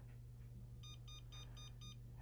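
A diamond tester beeps while touching a small stone: five short, evenly spaced electronic beeps over a low steady hum, close and faint.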